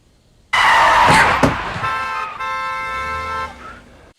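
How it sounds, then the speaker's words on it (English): Car horns honk loudly and close, one long sustained blare joined by overlapping toots that shift in pitch before cutting off, sounding like several vehicles sounding horns at once. "You're probably just noticing the car horns now"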